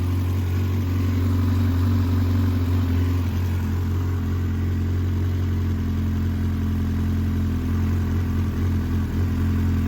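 A 2004 Yamaha R6 sport motorcycle, freshly serviced, idles steadily at close range, its even, low engine hum running unbroken throughout with no voices.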